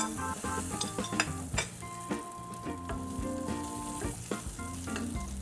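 Onions sizzling in oil in a pan for a tofu dish, with a steady close fry and frequent clinks and scrapes of a utensil against the pan.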